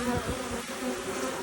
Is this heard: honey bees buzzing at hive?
yes